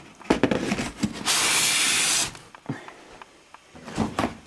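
Tools for a Miele S381 cylinder vacuum cleaner are lifted out of a cardboard box with polystyrene packing: close clunks and knocks, rustling, and a sustained scraping hiss of about a second.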